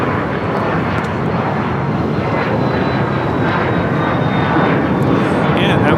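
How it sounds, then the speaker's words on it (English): A Cessna Citation Latitude business jet takes off with a loud, sustained broadband roar and a thin rising whine, swelling slightly toward the end. "NetJet 665, Cessna Citation Latitude taking off to Van Nuys"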